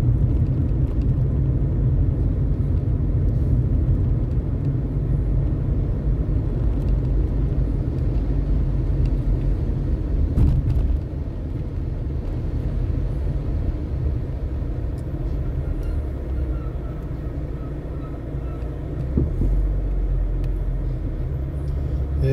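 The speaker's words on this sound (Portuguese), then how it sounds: "Esse barulhinho aqui embaixo do carro com certeza é o papo de fogo." A car's exhaust underneath the vehicle gives off a steady, loud, low rumble for the whole stretch while the car is driven through Natal, with a couple of brief knocks breaking through.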